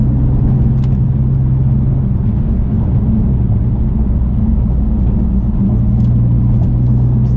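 A BMW F80 M3 with Mosselman hybrid turbos pulls hard at speed, giving a constant loud engine drone with road and wind rumble that holds steady throughout, heard from inside the car.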